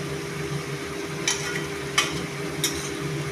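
Meat cooking in a kadai, a low steady sizzle under a constant hum, broken by three short scraping stirs.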